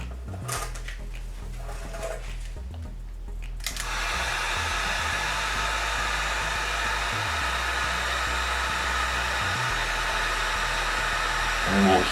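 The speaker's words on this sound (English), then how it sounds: "let's move our heat shrink in place like so. I'll grab my heat gun." A heat gun shrinks heat shrink tubing over a soldered wire joint during a rear bumper install on a 2014+ Lexus GX 460; after a few seconds of quiet handling, a loud, steady, close blowing roar runs to the end.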